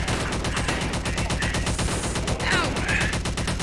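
Rapid automatic gunfire from a video game roleplay combat session, a dense, continuous, loud fusillade of shots filling the whole stretch, with a voice partly underneath.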